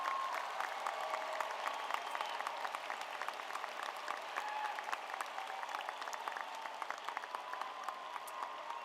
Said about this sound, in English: Would you please give everyone a round of applause?